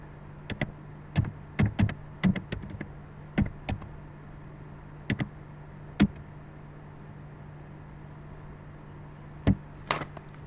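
A computer keyboard being typed on, with scattered clusters of sharp key clicks separated by pauses and a steady low hum underneath, close and moderately quiet with no talking.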